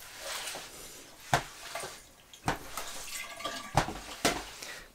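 Water from a hose splashes and trickles into the drain of a homemade resin print washer, with irregular drips and sharp splashes over a soft running flow, close and fairly quiet.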